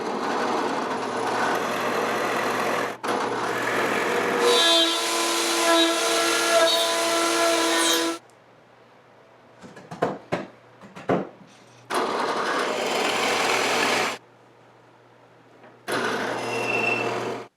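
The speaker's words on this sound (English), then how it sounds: "I'm going to route this out, just the edges initially, then I'll hog out the material" A power router trims the edges of a work table top in long, loud, high whining bursts, separated by quiet pauses with brief handling knocks.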